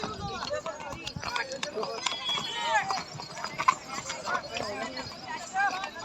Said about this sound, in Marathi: हे बघा, घोडा, पांढरा घोडा.